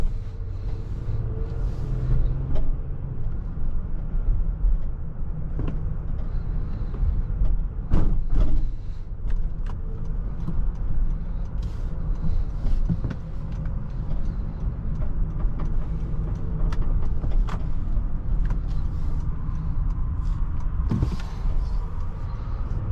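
Steady cabin rumble from a 2024 Honda Pilot TrailSport with a 3.5-liter V6, heard while driving, with occasional interior creaks and clicks over the constant road and engine drone.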